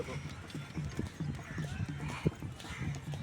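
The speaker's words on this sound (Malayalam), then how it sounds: "ആ കുതിര ആദ്യം പേടിച്ച്." Horse hooves clip-clop on Marina Beach in Chennai during Pongal, a quick steady rhythm of close, crisp hoofbeats with one sharper knock partway through.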